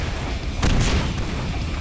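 A burst of booming explosion-like noise erupts mid-clip over a constant rumbling game soundscape in Painkiller Black Edition, loud and dense rather than sharp.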